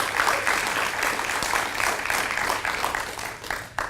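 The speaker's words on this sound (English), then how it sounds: "How about a round of applause for everyone that put this event together?" An audience applauding the event organizers, dense and sustained clapping filling the room at full strength throughout, loud and close.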